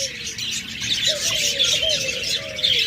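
Pet budgerigars, cockatiels and lovebirds chirp together in a busy chorus of high, overlapping tweets, with a few clearer whistled calls rising above the chatter, close and continuous.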